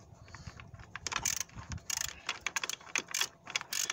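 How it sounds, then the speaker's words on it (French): Ratcheting clicks of a 10 mm wrench unscrewing the glow plug relay on a 1.9 JTD/JTDM Fiat engine, quick irregular bursts of metallic ticking, close and fairly quiet. "avec une clé de 10, je vais le dévisser pour pouvoir le bouger un peu"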